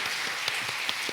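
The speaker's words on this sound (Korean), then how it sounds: "우리 박수로 축하하도록 하겠습니다" Congregation applauding in a church service to congratulate a newly married couple, a short burst of scattered clapping filling the room with no talk over it.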